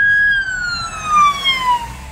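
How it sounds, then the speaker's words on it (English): An ambulance siren wails loud and close on a city street in Portage, Michigan after a tornado, its tone sliding steadily downward as it passes by. "Another ambulance."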